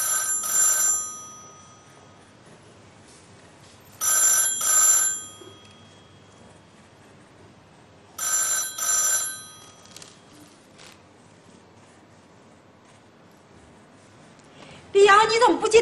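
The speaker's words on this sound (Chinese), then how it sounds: "你怎么不接电话呀？" Telephone bell ringing in repeated bursts, each ring lasting about a second with several seconds of quiet between them, followed by a person speaking at the very end.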